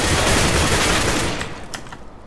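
A loud, close burst of video game gunfire, dense shots packed together and then tapering into a few sharper sporadic cracks as the noise thins out.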